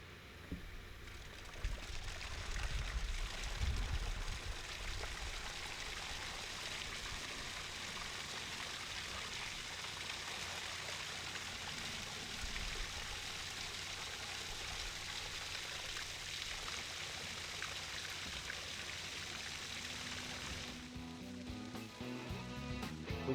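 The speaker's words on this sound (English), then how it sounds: "We're getting ready to kick the waterfall on" Landscape waterfall being switched on, a steady broadband rush of falling, splashing water that holds constant and fairly loud throughout, with low rumbling underneath and no talking.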